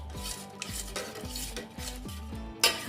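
Gelatin mixture in a pot for marshmallows, stirred with a spoon in quick repeated strokes, each scraping and clinking against the pot with a soft simmer underneath, ending in a sharper knock.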